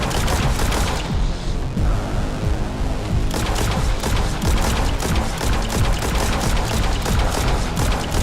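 Rapid sci-fi gunfire from the game Genesis Alpha One: loud, sustained bursts of automatic shots in a dense rattling stream, briefly thinning before resuming at full intensity.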